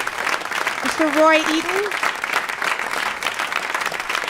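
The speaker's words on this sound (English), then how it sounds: "Big round of applause." Concert audience applauding at a Scott Joplin anniversary performance, a steady broad wash of clapping running throughout while a voice announces a name over it.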